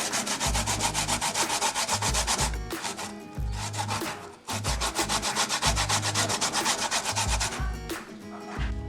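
Sweet potato grated by hand on a grater, a fast rhythmic run of rasping scrapes in bursts with brief pauses between strokes, close and loud.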